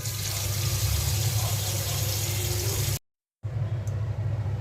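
Tap water running steadily into a container to soak red amaranth leaves in a home kitchen, a loud continuous splashing rush that cuts out briefly before resuming.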